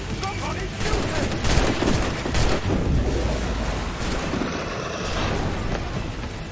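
Gunfire in Assassin's Creed IV Black Flag, a loud dense burst of rapid shots and crackling volleys in a chaotic battle, with shouting voices mixed in throughout.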